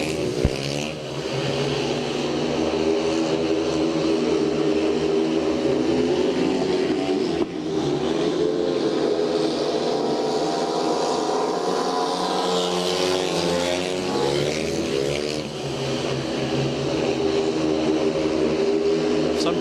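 Speedway motorcycles racing in the late laps of a Monarchs meeting, engines roaring continuously and loud throughout, with rising and falling revs as the bikes sweep past, no voices over the engine noise.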